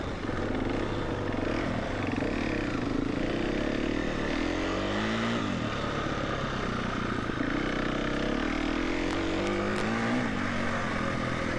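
Enduro motorcycle engine droning steadily on a beginner training track in the Podlasie countryside, with rising and falling pitch sweeps as the rider works the throttle, continuous and fairly close throughout.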